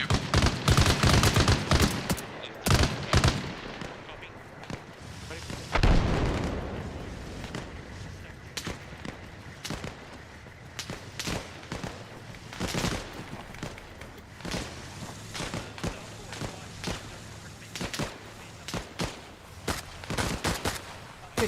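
Gunfire in the combat video game Arma Reforger during a PvP operation: bursts of automatic rifle and machine-gun fire mixed with single shots and a heavier blast, some close and loud, others distant, continuing steadily throughout with little talk.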